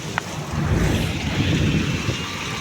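Heavy hailstorm rain pours onto steps amid fog, a dense, steady roar with a deep low rumble like buffeting wind, loud and continuous throughout with no voices.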